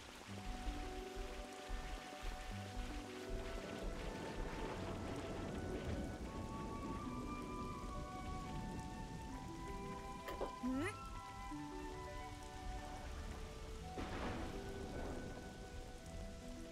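Steady rain patters on surfaces throughout in Xenoblade Chronicles 3, with a low rumble underneath and some tonal game sounds and voices faintly mixed in.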